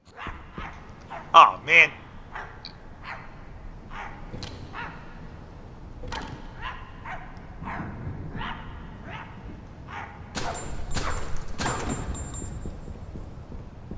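Dogs in the horror game My Friendly Neighborhood bark and yip in sharp, scattered bursts, two loud barks early on then quicker yaps and whimpers, with someone talking over them.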